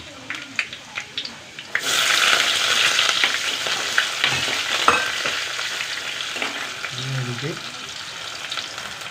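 Shallots and curry leaves fry in oil, starting with a few light taps and then a loud, close, crackling sizzle that swells and continues, with occasional stirring clinks and faint speech underneath.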